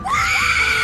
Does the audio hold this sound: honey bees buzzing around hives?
no